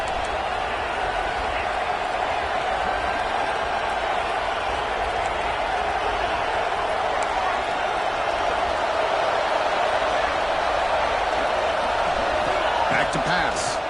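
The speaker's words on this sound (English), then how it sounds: "wow, listen to this crowd noise. This stadium is vibrating" Stadium crowd at a college football game between Georgia Tech and BYU, a dense, loud, continuous roar filling the whole stretch with a steady hum, while commentators talk over it.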